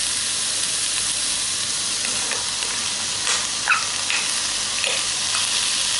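Vegetables for a hearty vegetable soup sizzle and fry steadily in a lidded pan, a continuous hiss with occasional small pops and crackles, close and even throughout with no talking.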